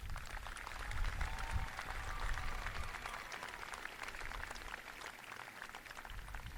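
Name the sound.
applause for graduates at a commencement ceremony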